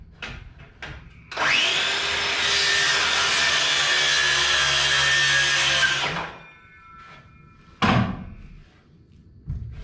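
A power saw trims about three-quarters of an inch off a 2-inch piece of treated wood for an interior floor, one loud steady cut lasting several seconds, followed by a few thumps and knocks.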